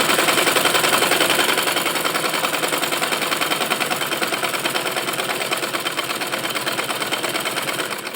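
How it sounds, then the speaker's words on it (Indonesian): A sewing machine stitches a jilbab seam from end to end, a rapid, even mechanical chatter running loud and close for the whole stretch, its pace holding steady with no voices. "ini kita jahit sampai ujungnya ya, dari ujung ke ujung"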